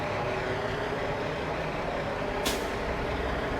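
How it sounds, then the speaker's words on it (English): Container trucks roll past near a waterfront container terminal, a steady loud engine and road rumble with a short hiss of air brakes partway through. "It's always noisy here because of the trucks coming up from the container terminal."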